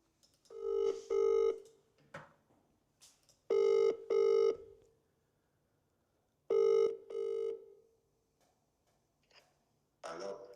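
A telephone rings out while a prize winner of an Audi RS4 draw is being called, three long ring bursts separated by pauses, clear and fairly close, followed by the start of another sound at the end.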